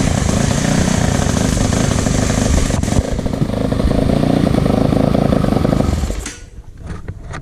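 A dirt bike engine fires up and runs loudly and steadily for several seconds at close range, then cuts off abruptly, leaving faint rattles afterward; no talking.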